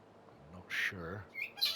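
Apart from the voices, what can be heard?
pet bird squawking in the background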